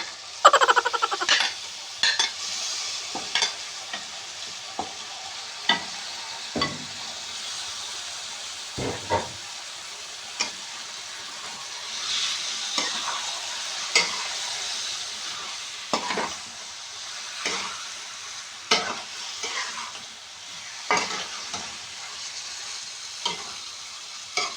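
Fresh chicken pieces frying and being stirred in a pan for a Bicolano chicken-and-tomato dish, with a steady sizzle broken by repeated scraping and clanking strokes of a utensil against the pan, no talking.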